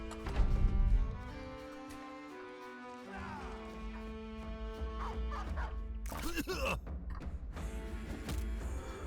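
Dogs barking and yipping in the turn-based battle game Battle Brothers, several sharp calls over a busy game soundtrack and clashing effects, with a louder burst of noisy impacts near the end.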